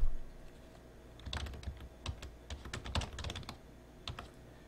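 A file name is typed on a computer keyboard, a quiet run of crisp, closely spaced keystrokes with a faint background hiss.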